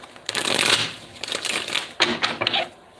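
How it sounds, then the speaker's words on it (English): Tarot cards shuffled in several quick riffling bursts close up, a dense papery rustle that stops and restarts, with no talk. "I'm hearing 9 shuffles."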